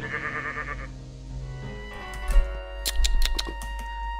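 A sheep from Minecraft's Epiccraft modpack lets out a short bleat, followed by a few sharp thunks and clatters over steady in-game music.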